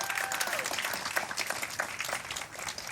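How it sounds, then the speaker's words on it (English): A crowd at a real estate office grand opening and ribbon cutting gives a short, steady round of applause, a close, dense clatter of clapping hands with a faint tone briefly audible underneath. "Can we all give them a round of applause for helping out today?"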